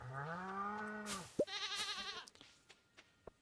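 A sheep in the Stardew Valley farming game lets out a loud, clear bleat, then a second shorter wavering bleat, followed by a few soft game clicks in otherwise quiet surroundings.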